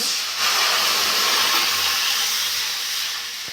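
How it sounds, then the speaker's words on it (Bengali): Water hits a hot wok in a loud, rushing steam hiss that swells quickly, holds steady, then eases off slightly, close and with no talk. "কড়াতে জল দিয়ে দেব"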